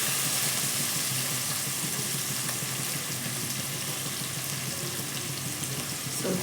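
Chopped vegetables fry in hot oil for fried rice, giving a dense, continuous hiss that stays loud and close throughout, with faint scraping and no voices.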